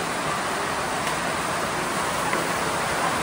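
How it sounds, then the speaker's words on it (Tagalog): Heavy rain pours down steadily on a farm during a simple outdoor gathering in the Philippines, a dense, loud hiss that stays constant with no break or voices above it. "Sobrang lakas na ng ulan."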